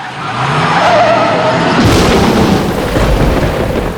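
Tires screech loudly in a long skid, then a heavy rumbling crash-like roar takes over and fills the rest of the moment; stage sound effects from Back to the Future: The Musical's clocktower scene.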